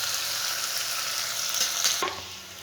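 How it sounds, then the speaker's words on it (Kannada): Onions softening in hot oil in a pan for a potato palya, giving a steady close sizzle and crackle with occasional stirring scrapes, no voices. "ನೋಡಿ, ಇದು ಒಂದು 2 ನಿಮಿಷ ಈರುಳ್ಳಿ ಎಣ್ಣೆಯಲ್ಲಿ ಸ್ವಲ್ಪ ಮೆತ್ತಗಾಗಲಿ"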